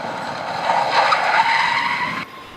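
A car brakes hard to a stop, its tires skidding in a sustained, loud squeal of about a second and a half that cuts off abruptly.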